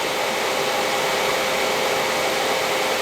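Steady, loud whooshing of a llano V10 laptop cooling stand's fans at maximum speed, 3500, a constant broadband rush of air with no variation throughout.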